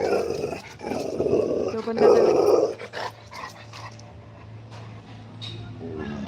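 A puppy growls playfully up close in short rumbling bursts with a few yips, louder at first and then fading, while a person speaks intermittently nearby.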